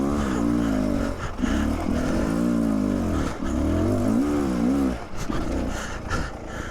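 A dirt bike engine revs hard while climbing a hill, a loud, sustained roar with rising and falling pitch sweeps as the throttle works, a few brief dips between pulls, and no talking.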